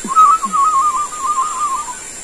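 A person whistles in imitation of an oriental magpie-robin's song, a close, clear, warbling tone that wavers quickly up and down in one continuous phrase outdoors.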